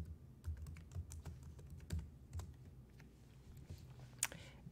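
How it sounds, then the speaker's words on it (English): Typing a login password on a computer keyboard, a quiet run of close, irregular key clicks with a sharper tap near the end, no voices. "enter the user login password"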